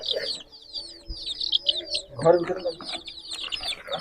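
Baby chickens for sale cheep and chirp in a cluster of high, rapid peeps, with a few lower clucks, while people talk over and between them nearby.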